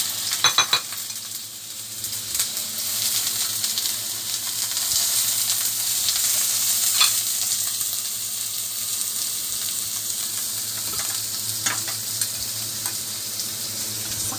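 Steady loud sizzling of food frying in a hot wok, with occasional scrapes and clinks of stirring, continuous throughout with no talking.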